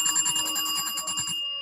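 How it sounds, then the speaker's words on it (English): A bell on a Gorilla Water Race arcade game rings rapidly and continuously, a bright metallic trill heard close and loud that stops abruptly near the end. "We get the bell ringing for all the individual lights"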